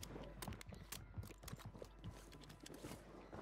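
A WSP 9 submachine gun being reloaded in the Rebirth Island video game: faint, quick mechanical clicks and clacks scattered over a low background rumble, with no voices on top.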